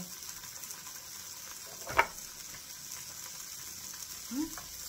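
Steady sizzling hiss of Spam slices frying in a pan until browned, with a brief clatter near the middle and a faint scrape toward the end.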